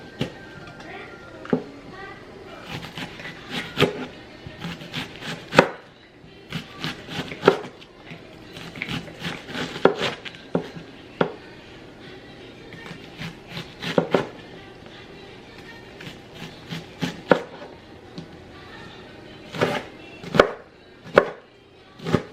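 A knife chops an onion on a board in quick bursts of crisp taps, separated by pauses, close by, with a voice talking in between.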